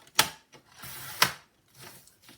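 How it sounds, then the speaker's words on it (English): Rotary paper trimmer slicing a sheet of card corner to corner for a handmade hardback memory book: two sharp, close cutting strokes with a brief scraping pass between them and softer handling rustle after. "So put it under my trimmer, corner"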